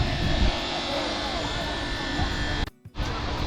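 A stone saw runs at the Athens Acropolis as a steady, loud grinding roar, sustained without a break until it cuts out briefly near the end, then resumes.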